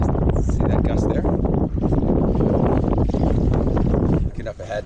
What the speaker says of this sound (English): oh, and it's gusty